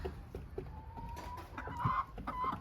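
Hens clucking in a backyard coop with a sawdust-like floor, a few short close clucks and one drawn-out call over faint farmyard background, with no talk.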